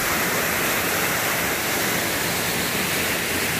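Jungle waterfall near Presidente Figueiredo in Amazonas, a steady broadband roar of falling water filling the whole clip at close range with no voices over it.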